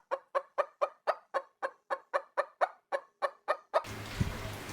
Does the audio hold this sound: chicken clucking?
yes